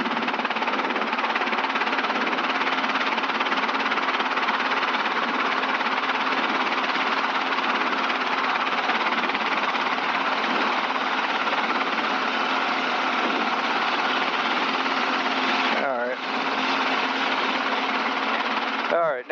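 An aircraft piston engine with a bad magneto runs steadily and loudly, a continuous droning roar with a brief stumble near the end, captured in a cockpit-style engine noise with little else over it.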